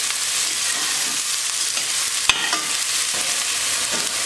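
Onion and potatoes sizzle and fry in a pan while being stirred for a vegan aloo methi dish, a constant crackling hiss with a few sharp scraping clicks of the spoon.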